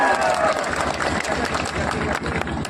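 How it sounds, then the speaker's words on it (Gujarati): An audience claps steadily to welcome a Delhi cabinet minister at a political rally in Netrang, with dense crowd applause that holds at a fairly even level throughout. "તાળીઓથી સ્વાગત કરી લેજો."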